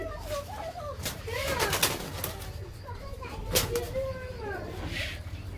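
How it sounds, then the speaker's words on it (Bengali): Madras pigeons murmur in low, rolling coos inside a loft, several calls overlapping close by, with people talking over them and occasional rustles. "এটা মাদা পায়রা"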